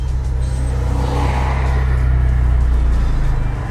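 A Honda Civic Type R EK9 engine runs through its standard exhaust with a sports catalytic converter, giving a loud, steady, close rumble that builds slightly as it revs, with no talking.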